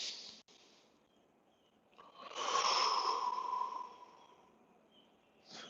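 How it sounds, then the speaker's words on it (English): A man breathes slowly and audibly during a morning yoga flow, with one long, close, airy exhale swelling in the middle and fainter breaths around it, no talking. "So you might hear me kind of audibly breathing here."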